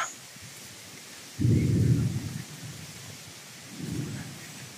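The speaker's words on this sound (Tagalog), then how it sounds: "Ulan na yan." Rain and thunder sweep over a mountain, with two low rolling rumbles of thunder, the first loud and the second fainter, over a steady hiss of rainfall in the open air.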